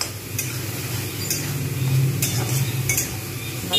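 Spice paste for a chicken curry with potatoes is stirred and sautéed in a pan, a low soft sizzle running under repeated clinks and scrapes of a metal spoon against the pot, fairly quiet and close, with no voices.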